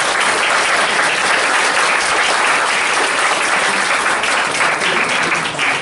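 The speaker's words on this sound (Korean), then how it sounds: "우리 박수로 우리 함께 감사를 표하겠습니다" A church congregation applauds to welcome a pastor to the front, a dense, steady wash of clapping that fills the room at full volume and holds evenly without any talk.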